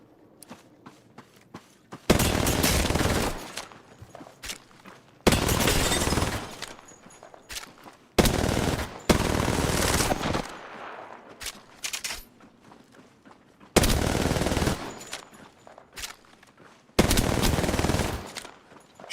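Video game gunfire in bursts of rapid automatic shots, five loud volleys each lasting one to two seconds, separated by quieter stretches with faint footsteps and clatter.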